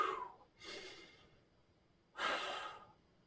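Deep, slow breaths during a leg workout twist, with three distinct airy breaths, two close together and then one after a pause, close and clear with quiet in between.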